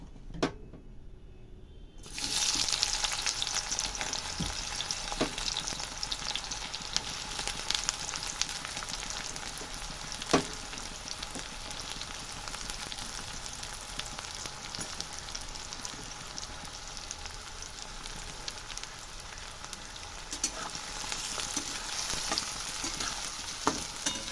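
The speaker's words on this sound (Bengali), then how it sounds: "তেল গরম হয়ে গেছে এবার দিচ্ছি পেঁয়াজগুলো আস্তে আস্তে" Sliced onions sizzle steadily in hot oil for a Bengali-style katla fish curry, starting after a brief quiet moment and continuing as a dense, even crackle with occasional sharper pops.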